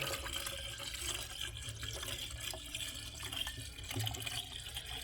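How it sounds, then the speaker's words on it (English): A 50-50 mix of BMW coolant and distilled water pours steadily into the cooling system of a BMW 440i engine, a continuous close liquid gurgle with no talking. "I'm just using a 50-50 mix of BMW coolant and distilled water. So we'll pour that in here."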